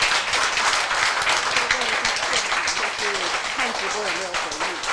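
An audience at a panel discussion applauds its three speakers with a sustained wash of clapping, while a voice speaks over it.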